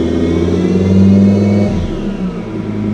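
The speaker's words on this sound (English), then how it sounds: "I'll try not to get too much throttle for the brap." A supercharged Lamborghini LP800-2 engine gets a short blip of throttle, its exhaust swelling into a brief brap and then settling back down, loud and close-miked with no voices.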